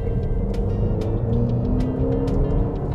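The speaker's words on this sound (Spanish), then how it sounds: "Suena lindo este carro, pero lindo a pesar de ser ese motorcito pequeño" A small-engine 2024 Cadillac XT4 in Sport mode runs with a steady low rumble heard from inside the cabin, a continuous close drone without speech.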